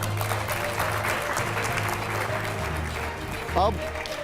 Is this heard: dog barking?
no